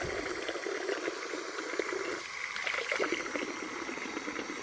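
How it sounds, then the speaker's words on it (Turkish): Water rushing through an Aqualin electronic water timer valve, a steady hissing, bubbling flow that stays constant, close and moderately loud, with no talk. "Bu ses benim vanamdan geliyor."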